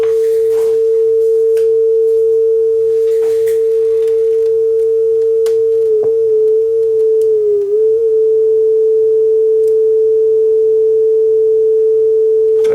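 A steady 440 Hz calibration test tone plays from an Akai HX-R44 cassette deck during speed adjustment, loud and continuous, with a slight pitch wobble partway through and faint clicks.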